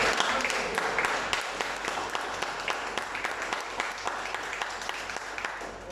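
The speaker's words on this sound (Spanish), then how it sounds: "Aplaudo al Señor." A church congregation applauds steadily throughout, dense overlapping claps at moderate volume filling the room without pause.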